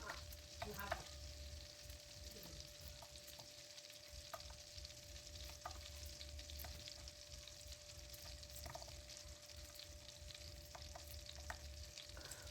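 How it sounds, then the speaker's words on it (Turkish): Steady, quiet sizzling of butter and chopped garlic frying in a pan, with faint scraping and clinks of a utensil stirring now and then. "Eriyen tereyağının üzerine 5-6 diş sarımsakları doğradım."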